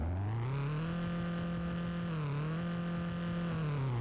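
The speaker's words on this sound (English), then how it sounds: "The car still sounds amazing." Engine of a 2018 Subaru Impreza running steadily nearby, a deep continuous hum with a brief dip in pitch partway through and no talking.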